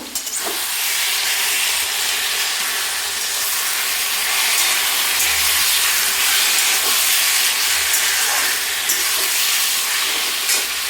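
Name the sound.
stirring fried rohu fish head with vegetables and spices in pan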